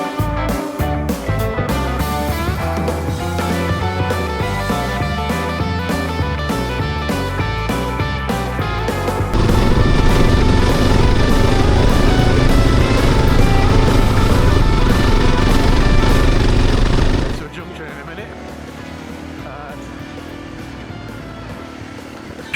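A KTM 500 six-days motorcycle rides a green lane with a loud, close engine drone that rises and shifts with throttle, then drops to a quieter, lower rumble near the end.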